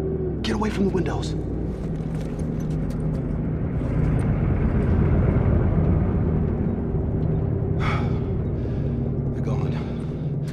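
Truck from The Last of Us game rumbling past outside, a sustained low engine drone swelling to its loudest mid-way then easing off, with a few brief sharper noises and voices at the edges.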